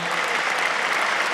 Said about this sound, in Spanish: Venía Alfonsín, lo aplauden ustedes.